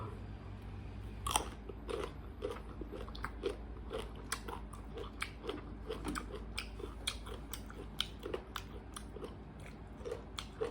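Close, crisp crunching as firm sour mango is bitten and chewed, in a steady irregular rhythm of wet crunches with no talking.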